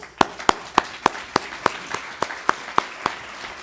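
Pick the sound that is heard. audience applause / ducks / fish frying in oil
audience applause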